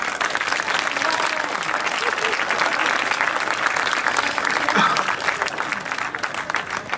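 Audience applause at a comedy show: dense, sustained clapping from a large crowd at close range, steady throughout and easing slightly toward the end.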